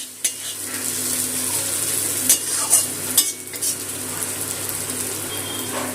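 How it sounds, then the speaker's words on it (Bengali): Chopped onion and garlic fry in a pan until reddish-brown for a rohu fish tail mash, giving a steady close sizzle with a few sharp utensil clinks and scrapes as the mixture is stirred. "পেঁয়াজ রসুনটা খুব ভালো করে লাল করে ভেজে নিয়েছি।"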